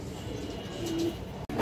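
A red chulli female pigeon gives a soft, brief coo in the middle, close but faint, over low background noise.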